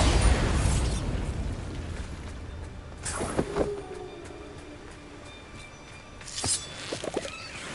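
The Bombarda explosion spell in Hogwarts Legacy, a rumbling blast at the start that fades into a low roar, followed by sharper crackling bursts and echoing debris, moderately loud with no talking.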